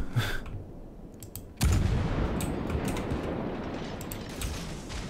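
A warship's gun fires with a deep boom in a World of Warships naval battle, followed by a sustained rumble and sea-like noise. Faint clicks and distant thuds run through the background.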